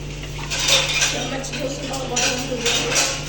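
Spoons and large dinner-set plates clink and clatter steadily at home, close and busy, with a faint steady hum beneath.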